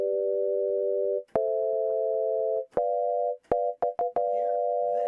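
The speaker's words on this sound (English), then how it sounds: "Pick any white key," Sustained chords played on a keyboard with an organ-like buzzing timbre, several held tones of a few seconds each, loud and close, then a run of short stabs before a final held chord.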